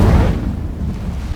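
The Incendio fire spell cast in Hogwarts Legacy bursts out as a loud, booming whoosh that fades into a low rumbling roar, with no talk over it.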